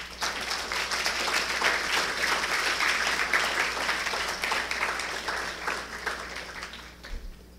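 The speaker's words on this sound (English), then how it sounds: "Give yourselves a round of applause." Audience applause at an awards ceremony, a dense, steady wash of many hands clapping that holds loud throughout and eases slightly near the end.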